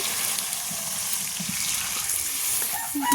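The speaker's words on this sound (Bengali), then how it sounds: "এখন আমি ঝোলটা দিয়ে দিলাম" Broth pours into a pan of duck meat curry, making a continuous close gushing, splashing rush of liquid with a few small bubbling sounds near the end.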